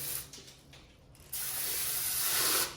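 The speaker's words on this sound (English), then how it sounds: "instead they have this hose where you spray your beehole with" A handheld bidet hose sprays water in a bathroom in Panglao, Bohol, a brief hiss at first, then a powerful continuous jet that runs for over a second before stopping.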